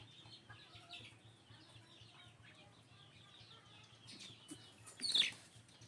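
Chickens at a game farm cluck and chirp softly near a multi-purpose pen, with scattered faint calls over a low background hum and one brief, louder call near the end.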